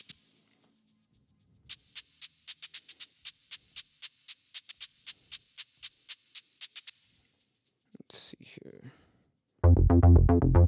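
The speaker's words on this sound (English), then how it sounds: "There's a hi-hat loop." A steady, crisp hi-hat pattern ticks in an even repeating rhythm for several seconds, followed by a brief effect swell and then a loud, dense burst of music.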